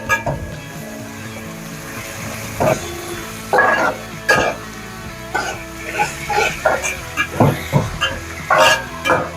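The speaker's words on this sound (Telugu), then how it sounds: "దీంట్లో ఒక స్పూన్ అల్లం వెల్లుల్లి పేస్ట్ వేస్తున్నా ఇది పచ్చి వాసన పోయేంత వరకు ఫ్రై చేసుకోవాలి" Ginger garlic paste fries in oil in a pan for a vegetarian khuska biryani, with soft sizzling under intermittent scraping and stirring clicks. There are a few brief coughs or throat sounds.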